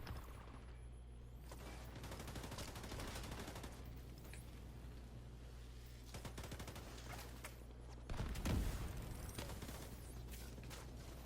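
An automated turret fires in The Division 2 video game, with rapid bursts of gunfire at moderate distance and a louder burst toward the end over a constant low hum.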